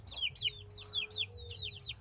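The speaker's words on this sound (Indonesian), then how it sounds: "Ini saya memperkenalkan ayam" Clucking from a fighting rooster, a Pama and Saigon crossbreed, sounds as a steady run of short, rapid, throaty calls, close and moderately loud over a low background hum.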